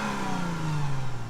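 Car engine revving hard with a throaty exhaust note, a steady, loud, close drone that rises and falls slightly in pitch across the whole stretch, with no voices over it.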